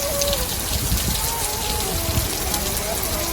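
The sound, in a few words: swollen stream water flowing after heavy rain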